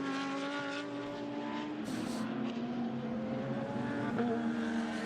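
GT race car at full throttle on the Ningbo circuit during qualifying, a sustained loud engine whine with a rising and falling pitch as it accelerates and runs through a corner, near and continuous.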